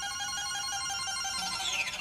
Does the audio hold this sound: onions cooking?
no